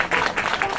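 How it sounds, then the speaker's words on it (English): Audience applause breaks out at a talk by a lecturer, a dense, steady wash of many hands clapping close and fairly loud throughout the short moment. "Let's clap it up for Doc."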